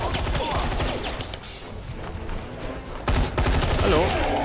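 Bursts of rapid gunfire crackle through a Hazard Ops video game firefight, dense and continuous with a short lull in the middle, then resuming louder; a voice talks under the shooting.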